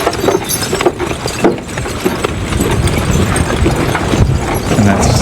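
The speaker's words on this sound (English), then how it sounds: "What I'm trying to get is 3 horses that just lug." Hooves of three draft horses clomp steadily on wet ground while they pull farm work in the North Country, a loud, dense, irregular clip-clop close by with no voices over it.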